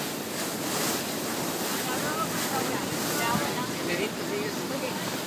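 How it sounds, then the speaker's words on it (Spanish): A 73-foot boat out on the sea near the Marietas Islands, heard as a constant roar of wind buffeting the microphone with rushing water and surf, loud and unbroken throughout. "Ahí está el barquito, 73 pies."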